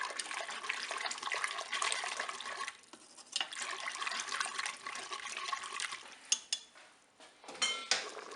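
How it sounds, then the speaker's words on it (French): A metal whisk stirs curry sauce for pork in a Cookeo electric pressure cooker pot, giving busy scraping and clinking with wet sloshing, close and fairly loud, with a brief pause partway through. "Je vais prendre un fouet pour bien mélanger et je vais laisser épaissir"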